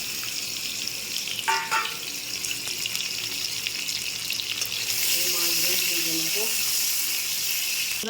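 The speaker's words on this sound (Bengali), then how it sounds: "কেটে নিয়ে এই যে তেলে ভেজে নেবো আগাম।" Pieces of rohu fish head fry in hot oil, making a steady close sizzle. The sizzle grows louder partway through, with a few clinks of utensils and some background sounds.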